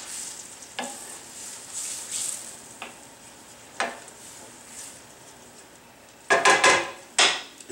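Broccoli and anchovy sauce cooks down in a pan, a soft steady sizzle broken by occasional utensil stirs and scrapes, with louder clatters of a spoon against the pan near the end.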